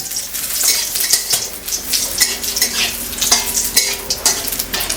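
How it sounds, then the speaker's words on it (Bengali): Chopped raw onions frying in a hot pan after fried potatoes for a country-chicken kosha, loud dense sizzling close by with repeated scraping and clinking of a metal spatula against the pan, no talk. "এইবারে এই কাঁচা পেঁয়াজগুলো দিয়ে দেব কুচানো কুচানো কাঁচা পেঁয়াজগুলো দিয়ে দিলাম"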